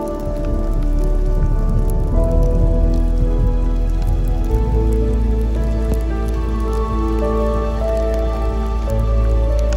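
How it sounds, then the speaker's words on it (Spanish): Steady rain falls through a forest during a wildfire, a dense continuous patter of drops on leaves and ground, close and fairly loud throughout with no voices. "Esperemos que esta lluvia sea lo suficiente para apagar el fuego."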